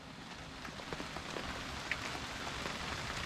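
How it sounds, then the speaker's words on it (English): Steady rain patters on the roof of a truck camper on a rainy morning, a dense even hiss with scattered individual drop taps, close and continuous with no voices. "It's a rainy morning"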